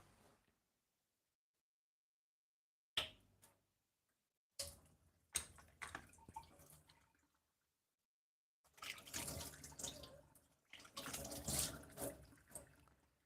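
Short bursts of tap water pour into a drinking glass at a kitchen sink, separated by silences, with soft clinks and a louder, fuller splash toward the end, close and quiet overall.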